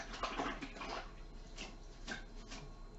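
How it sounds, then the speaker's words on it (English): Hands washing in a basin of water used for soaking cotton for dyeing, close splashing and sloshing in irregular bursts, fairly quiet, no speech. "the water I'm using to wash my hands out in is actually the soaking, the water that I've used for soaking all of today's cottons in"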